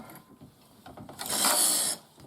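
Knitting machine needles pushed out together in one sweep, giving a loud, continuous metallic rattling clatter for about a second after several fainter clicks; no voices.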